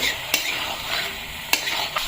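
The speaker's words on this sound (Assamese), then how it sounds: "এনেকৈ অলপ টাইম আৰু ভাজি ল'ম" Steady sizzling of pork frying in a pan, with a few sharp scrapes of a spoon stirring it, close and continuous.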